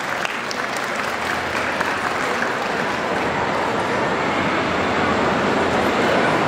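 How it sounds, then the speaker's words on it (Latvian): Audience applause fills a pet expo hall during a dog breed demonstration, a steady dense clapping that holds loud and unbroken for the whole stretch with no talking over it. "Aplausi!"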